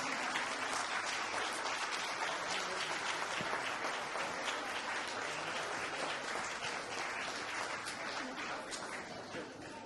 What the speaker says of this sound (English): would you give all the award recipients a round of applause?